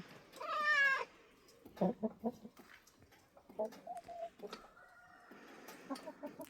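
A pet hen clucks and a cat meows while they compete for food, with short bursty calls and a brief higher cry, close by and without talk.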